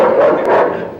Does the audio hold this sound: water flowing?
no